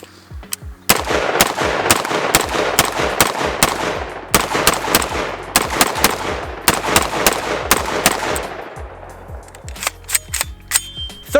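A Palmetto State Armory KS47 Gen 2 rifle fires live at a range in rapid strings of loud, sharp shots with brief pauses, then a few spaced final shots and metallic clinks, no talking.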